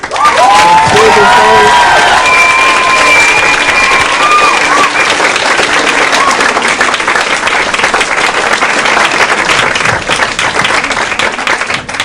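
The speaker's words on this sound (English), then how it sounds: "give a round of applause for all the contestants that came out" Loud, sustained applause and cheering from a high school poetry slam audience, with whoops and shouts over dense clapping that holds steady for the whole stretch.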